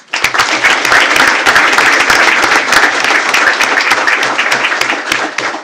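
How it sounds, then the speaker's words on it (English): A crowd at a school board of trustees meeting claps and cheers continuously for a teacher, a dense, loud wave of applause that holds steady before tapering slightly at the end. "Give this man a big round of applause."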